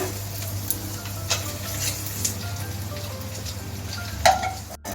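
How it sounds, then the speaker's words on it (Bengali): Paneer pieces frying in hot oil, a steady sizzling hiss with faint crackles and occasional pops and clinks, close and moderately loud, no voices. "এখন আমি এর মধ্যে পনিরগুলি ভেজে দিয়ে দেব"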